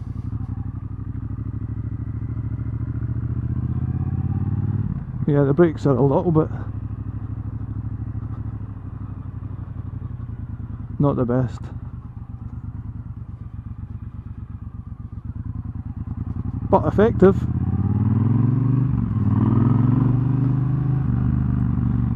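A 2018 Triumph Bobber 1200 ridden on a wet road, its engine a steady low rumble with rising revs, wind noise and a few clattering bursts, while the rider talks over it.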